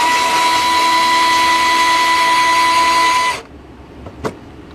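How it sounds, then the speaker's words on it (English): A cordless drill motor spins an 8-32 tap into pre-drilled holes, giving a loud, steady whine for about three seconds before cutting off abruptly, followed by a faint brief clatter. "I've got an 832 tap chucked up in my drill motor"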